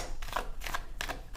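A deck of playing cards is shuffled by hand in three or four quick riffling bursts separated by short pauses, close and fairly soft, with no talking.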